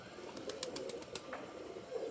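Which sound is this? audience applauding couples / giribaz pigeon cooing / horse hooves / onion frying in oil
giribaz pigeon cooing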